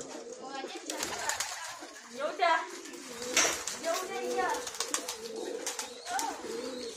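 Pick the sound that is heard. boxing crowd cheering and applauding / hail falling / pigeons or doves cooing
pigeons or doves cooing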